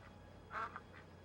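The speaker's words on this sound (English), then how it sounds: "Scary crows to greet him." Crows cawing outside the mansion in the Luigi's Mansion video game, one short, faint harsh call followed by a brief second note over low background hum.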